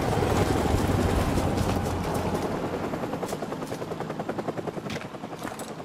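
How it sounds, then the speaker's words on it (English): A helicopter in the video game Call of Duty 4: Modern Warfare Remastered gives a loud, close rotor roar that settles into a steady chopping pulse as it slowly fades. "I remember this helicopter and like a search light."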